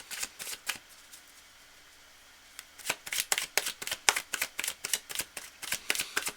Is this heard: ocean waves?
no